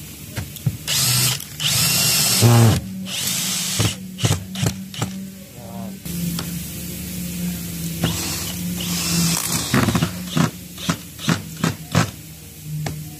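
Power drill driving screws into an aluminum profile frame, bursts of whirring motor and ratcheting clutch clicks repeating in short uneven spurts, close and fairly loud with workshop clatter between.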